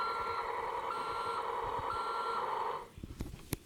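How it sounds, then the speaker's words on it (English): A Tonka Mighty Motorized recycling toy truck sounds a steady, loud electronic reversing beep that repeats for nearly three seconds. It then cuts off into a few quieter clicks and handling knocks. "There's a backup sound."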